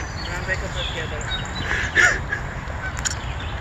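A goose honks once, briefly and moderately loud, over steady outdoor noise and background murmur.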